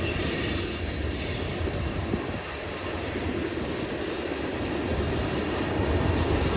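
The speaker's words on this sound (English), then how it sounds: "See the other port stack train making its way down." BNSF double-stack freight train rolling downhill from Cajon Summit, a continuous distant rumble and hiss of wheels and cars with faint high squeal, steady throughout and without voices.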